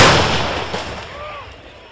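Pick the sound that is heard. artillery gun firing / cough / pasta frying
artillery gun firing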